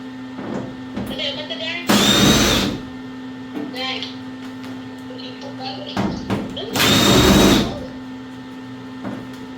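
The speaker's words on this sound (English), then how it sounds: "Drill." Two loud bursts of a power drill whirring, each about a second long, during car rust repair, with quieter speech and shop noise between them.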